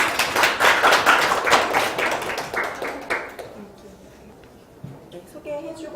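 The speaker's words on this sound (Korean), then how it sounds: "박수로 맞아주세요" An audience at a presentation of a big data course's final project claps crisply for about three seconds, then the clapping thins into scattered taps and quiet room sound.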